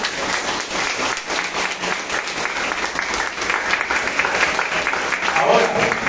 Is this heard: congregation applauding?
yes